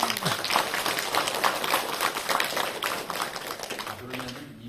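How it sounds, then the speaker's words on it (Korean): A lecture hall audience at a Buddhist sutra class breaks into steady, dense applause that carries on for several seconds before tapering off near the end. "박수 한번 쳐주세요."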